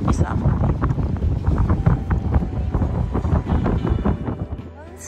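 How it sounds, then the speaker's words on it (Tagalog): Strong wind sweeps across the lake at ExCeL Marina in London, roaring and buffeting the microphone continuously with a loud, rumbling rush. "Basta pupunta ako dito, very windy siya."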